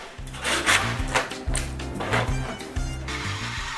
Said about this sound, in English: A scraper with a good sharp edge usually does the trick.